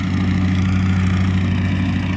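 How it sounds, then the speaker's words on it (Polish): A small engine of a remote-controlled model plate compactor drones steadily and loudly up close at an RC car track, a constant buzzing hum with no change in pitch over the short stretch. "prowadzi model zdalnie sterowany, zagęszczarkę"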